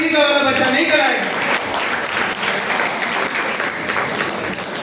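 Broad applause from a gathered audience at a religious talk, loud and sustained. A voice trails off at the start as the clapping takes over.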